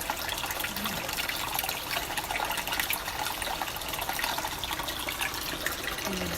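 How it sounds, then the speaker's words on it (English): Water steadily flows back into an aquarium exhibit tank after cleaning, a continuous close rushing and gushing with an even level throughout and no talking. "Water is slowly filling back in."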